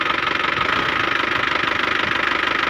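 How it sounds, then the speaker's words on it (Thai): A used car's engine idles steadily at close range, a continuous even rumble with a fast rhythmic pulsing and no voices over it. "เดี๋ยวฟังเครื่องอีกคันนึงครับผม"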